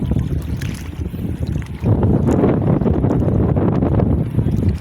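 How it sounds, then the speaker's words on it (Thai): Steady wind gusts over open water on the Se River in Laos, with waves lapping and a constant rushing roar close to the microphone that grows stronger after the first couple of seconds. "ลมพัดน้ำเผือดไปเผือดมาปานอยู่ทะเลเลย"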